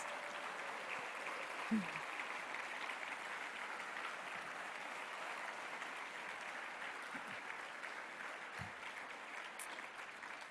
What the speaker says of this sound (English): Nancy, you deserve all this applause.